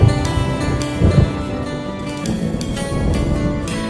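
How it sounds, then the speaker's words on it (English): Rolling thunder from a storm sounds within a country song, broad rumbling bursts swelling and fading under the music. "And the thunder rolls."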